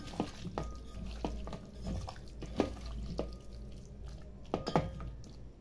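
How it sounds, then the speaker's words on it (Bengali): Marinated chicken pieces are squeezed and mixed by hand, making faint wet squelches and soft sticky clicks in an irregular rhythm, close by and quiet. "হাত দিয়ে মেখে নিচ্ছি। ভালোভাবে মাখতে হবে।"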